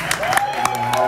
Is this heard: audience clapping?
yes